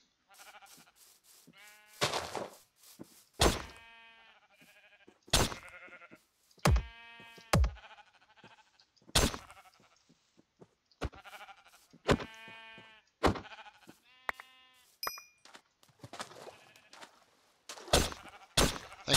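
Sheep in a video game bleat repeatedly in a quiet scene, with clear harmonic, wavering cries separated by sharp thuds and clicks of in-game actions.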